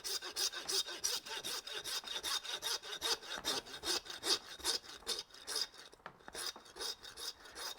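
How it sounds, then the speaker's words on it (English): Meat saw cutting through a giant wagyu T-bone, a steady rhythmic rasp of back-and-forth strokes, close and loud, with no talking. "You can do this all at home with your normal meat saw."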